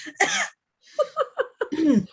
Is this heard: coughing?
yes